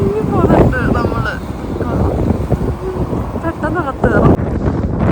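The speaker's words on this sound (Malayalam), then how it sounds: "ഇത് ഭയങ്കര കാറ്റാണത്" A strong snowstorm wind in Canada roars and buffets the microphone in a continuous rumbling rush, with a person talking close by over the gusts.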